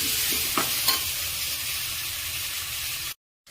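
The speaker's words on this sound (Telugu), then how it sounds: "మునక్కాయ ముక్కలు టమాటోలు ఇవి వేసుకొని కొంచెం కలుపుకొని కొద్దిసేపు మగ్గనిద్దాం" Drumstick pieces, carrot and tomatoes cooking in a pan for a Telugu pappu charu, with a steady sizzle and two or three brief stirring scrapes near the start, heard alone without talk.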